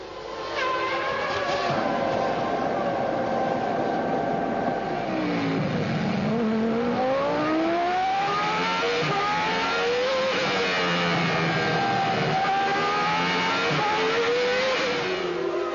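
Formula 1 race cars from the 1995 season scream past at high revs, engine pitch sweeping up and down through gear changes as they race, loud and continuous with no talk.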